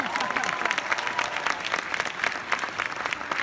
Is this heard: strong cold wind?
no